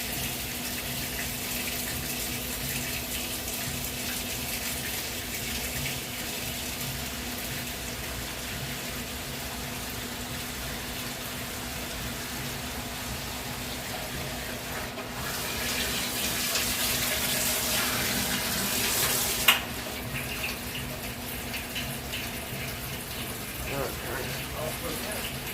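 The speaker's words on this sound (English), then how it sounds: "Fill it up, water hose here." Water from a garden hose pours steadily into the tub of an old ringer washing machine, a continuous gushing rush that swells slightly near the end, with faint background noise throughout.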